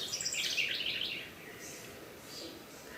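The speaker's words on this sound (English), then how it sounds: "I love the way the birds are always part of our talks." Birds singing outdoors during a spring retreat, faint high chirps and short song phrases over quiet background, strongest early on.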